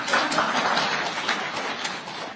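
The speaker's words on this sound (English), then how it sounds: "I thought you would clap." An audience at a Safaricom announcement in Kenya breaks into steady, dense clapping that holds for a couple of seconds before tapering slightly, with no voices over it.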